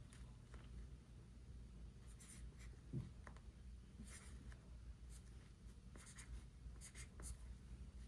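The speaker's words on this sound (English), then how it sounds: "I'm just going to write down what I have in here like this right here" A pen scratches across paper in short strokes and pauses while someone writes figures into a budget at a quiet desk, faint and close with no talking.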